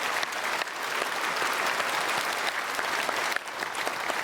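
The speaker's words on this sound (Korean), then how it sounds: "박수하겠습니다." A church congregation at a Sunday worship service applauds its choir with full, even clapping that fills the sanctuary for a few seconds without pause.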